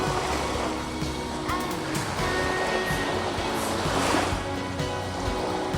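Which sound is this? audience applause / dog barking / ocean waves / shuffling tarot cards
ocean waves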